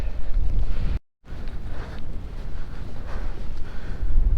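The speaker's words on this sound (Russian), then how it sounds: "Ветер еще, по-моему, усилился." Strong winter wind buffets the microphone on an open frozen fishing spot with drifting snow, a constant loud roar with one brief dropout and gusty swells.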